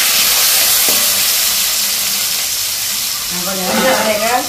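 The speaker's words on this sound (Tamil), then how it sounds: "குழம்புக்கு வெங்காயம் உள்ளி கருவேப்பிலையை பொரிச்சோம்." Onion, garlic and curry leaves fry in hot oil for a Sri Lankan-style curry, giving a steady close sizzle and hiss, with stirring and brief voice-like tones toward the end.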